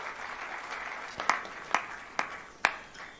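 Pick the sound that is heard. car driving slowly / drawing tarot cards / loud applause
loud applause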